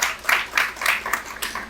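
Audience applause welcoming Farhad Iqbal onto the stage at a Punjabi literary and film gathering in Islamabad: a short run of soft, uneven bursts of clapping at moderate distance.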